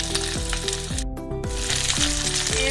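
Chopped flat beans hit a hot frying pan already holding carrots, potatoes and pumpkin, giving a loud, steady sizzle throughout with a brief dip midway, heard close up with no voices.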